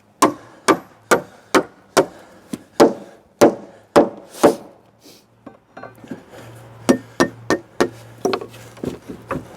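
Oak dowels hammered into the joints of an oak roof truss assembled on the ground, a steady run of sharp, close wooden knocks at roughly half-second intervals, then a brief lull and a quicker, lighter series of blows.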